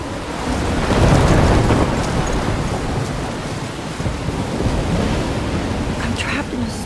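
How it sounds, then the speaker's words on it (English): A storm in Life is Strange roars with heavy rain and crashing waves, and low thunder rumbles loudest early on, forming a continuous, enveloping wash of noise. "I'm trapped in a storm?"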